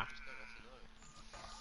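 A man imitates goat bleats with his voice during a FIFA gaming session, giving a few wavering, nasal bleat-like calls up close while other voices talk around him.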